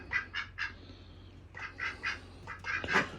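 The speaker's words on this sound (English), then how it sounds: "1 mixed breed Muscovy." A partly Muscovy mixed-breed duck calls in short bursts, about ten close quacks in loose groups of two and three with brief pauses between them.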